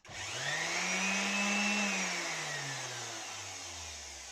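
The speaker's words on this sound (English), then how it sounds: "if I now connect my sander to this and I switch on my sander, it's not going to go on until I click it on from this device" An electric sander powered through a remote-controlled smart socket whirs up to speed and runs steadily, a loud close motor drone with a rising then gently falling pitch, no talking.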